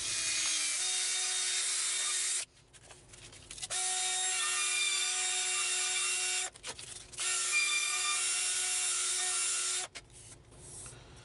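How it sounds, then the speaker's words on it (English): Steady abrasive sanding against a wooden dowel spinning in a drill, a loud whirring rasp that stops twice briefly before resuming. "I'm going to hit it with a little bit of sandpaper"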